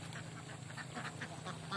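A flock of ducks feeding on leftover rice in a harvested rice field gives soft, faint, repeated quacks over low background noise in a brief stretch, with no clear talking.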